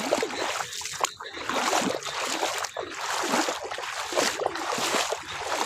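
River water flows and splashes steadily at close range through the whole stretch, a broad rushing wash with small surges and sloshes, no voices over it.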